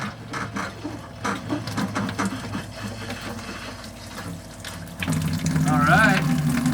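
Hot water rushing through newly installed van plumbing during a leak test, with irregular knocking and gurgling that swells into a louder, steadier flow partway through, while a voice speaks over it.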